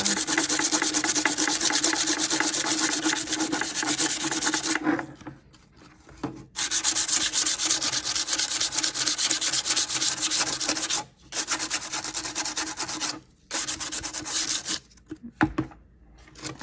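Sandpaper rubs back and forth over a painted wooden jewelry box in long, steady, rasping strokes, close and loud, with brief pauses between passes.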